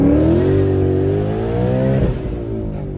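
A supercharged or turbocharged power-adder car launches hard, its engine note climbing steadily and loudly at close range for about two seconds before easing off, with the steady roar of spinning tires underneath.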